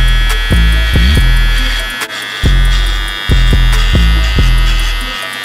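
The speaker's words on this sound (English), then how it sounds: "we're just going to go back in with our trimmer and bald out everything below that line." An electric hair trimmer buzzes steadily and close as it cuts hair, with a constant loud hum broken by repeated short strokes and brief pauses during a self-cut fade.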